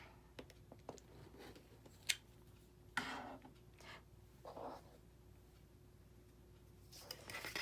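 Scissors or a rotary cutter cut quilt fabric in a quiet room. A few soft, scattered snips and crisp cuts come close by, with gaps between them and no talking.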